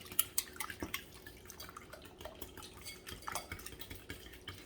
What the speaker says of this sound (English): I've got 7 eggs that I'm going to whisk together.